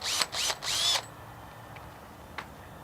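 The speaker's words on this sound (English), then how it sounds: "you can grab your drill, pre-drill your middle hole." A power drill pre-drills a hole for mounting a motorized shade, whirring in three short bursts, revving up and down quickly, then stops, leaving a quiet room with a faint click.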